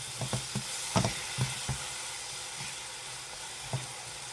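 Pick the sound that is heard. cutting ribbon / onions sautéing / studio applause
onions sautéing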